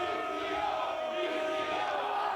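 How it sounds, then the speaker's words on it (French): A wrestling crowd at an FM Lutte event roars and cheers steadily, a dense, loud wall of voices sustained without a break. "La foule semble très satisfaite."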